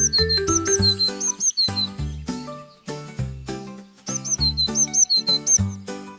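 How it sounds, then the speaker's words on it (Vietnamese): A blue tit, the small blue-and-yellow garden bird, chirps in a rapid series of high, thin notes over a background of simple melodic music. "Chim sẻ ngô xanh dễ nhận ra với bộ lông màu xanh da trời và vàng."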